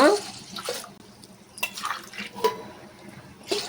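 Water splashes into a pot for jaggery pongal in several short, uneven pours, close and moderately loud, with brief quiet gaps between.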